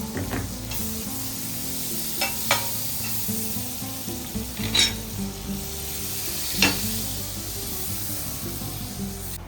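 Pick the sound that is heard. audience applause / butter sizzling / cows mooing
butter sizzling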